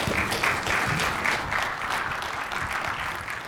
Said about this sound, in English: You guys are setting a high bar clapping before I even start